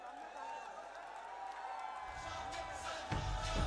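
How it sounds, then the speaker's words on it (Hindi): A crowd bursts into applause and cheering that swells in the second half, loud and dense, following a quieter stretch of murmuring, at an outdoor political rally in Malegaon. "जोरदार तालियों में इस्तकबाल होना चाहिए।"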